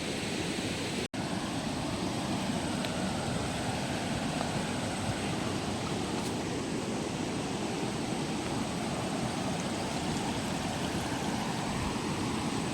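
The Cileungsi river in Indonesia flows as a steady, dense broadband rush of water, continuous and fairly even, with no voices over it.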